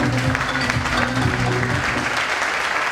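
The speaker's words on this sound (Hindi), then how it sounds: "जोरदार तालियां भाई कमल जी के लिए सर," Steady, dense applause from an audience at a training event in Meerut, a continuous crowd of clapping hands, fairly loud and even throughout.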